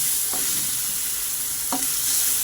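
Chopped tomatoes frying and being stirred in a pan with ginger, garlic and green chillies for a crab curry, giving a steady loud sizzle with a couple of short scraping stirs.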